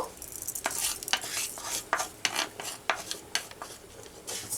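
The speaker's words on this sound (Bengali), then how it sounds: "ডালটা একটু আমি ভেজে নেব" Moong dal dry roasting in a nonstick kadai, with irregular scraping stirs of a spatula against the pan over a faint dry rustle of lentils, close and steady, with no talking.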